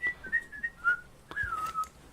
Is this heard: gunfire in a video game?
no